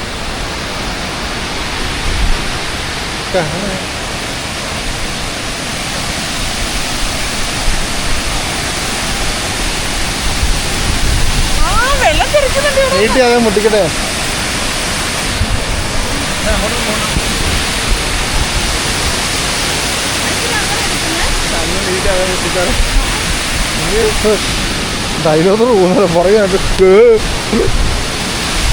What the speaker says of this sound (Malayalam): നെയ്യാർ ഡാമിന്റെ വെള്ളം